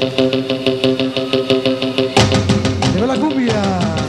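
A cumbia played live at the Sport Arena in Los Angeles: a full, dense band groove with a steady, driving beat. The arrangement shifts midway into sliding, swooping melodic lines.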